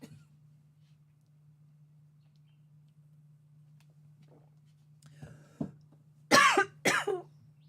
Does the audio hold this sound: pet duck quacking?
no